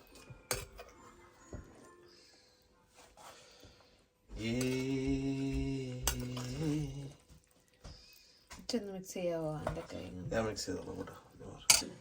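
Beef biryani being mixed in a dish, with scattered clinks and scrapes of a utensil against the container, close and intermittent, while people talk in between.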